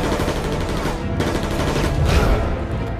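Gunfire from a film scene in The Batman (2022) comes as loud, dense, rapid bursts in a continuous barrage.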